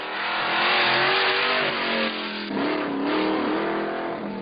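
A 1991 Pontiac Firebird engine revving up close, the throaty growl rising and swelling, dipping briefly, then climbing again through several rises and falls, loud and alone with no talk.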